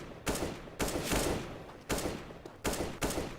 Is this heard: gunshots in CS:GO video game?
yes